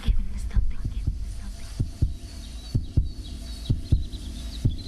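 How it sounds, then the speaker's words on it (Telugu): Steady heartbeat thumps in a film scene, a regular double-beat pulse repeating low and close over a faint hum, with no talk. "నన్ను ఒక సౌండ్ డిస్టర్బ్ చేస్తుంది. అదే తన గుండె చప్పుడు."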